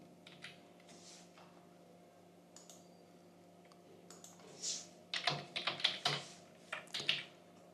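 Computer keyboard keys tapped while writing code, quiet scattered clicks early on building to a denser, louder burst of typing near the end, with steady low background hum.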